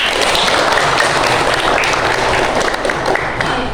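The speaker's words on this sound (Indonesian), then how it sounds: "Oke, bagus ya, tepuk tangan." Students in a school classroom break into loud, continuous applause, a thick wash of many hands clapping at once without pause.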